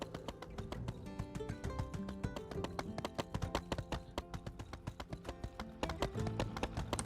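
Rapid, rhythmic video-game hoofbeats of a horse climbing stairs in My Time at Sandrock clatter continuously on a hard surface, a steady galloping clip-clop that stays close and loud throughout.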